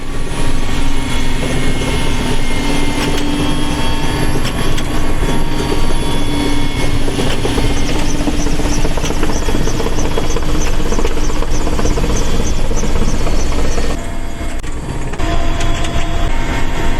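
A firefighting helicopter flies over a wildfire near Manavgat, Turkey, its loud, continuous rotor thrum and engine whine filling the air steadily, with a brief dip in level near the end.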